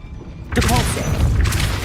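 A Depulso spell blast in Hogwarts Legacy, a loud rushing boom that bursts in after half a second and carries on to the end, with a shouted voice over it.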